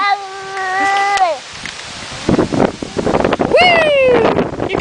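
Outdoors on a windy day, gusts buffet the microphone in loud, uneven bursts during the second half, after a voice speaks over quieter air at the start.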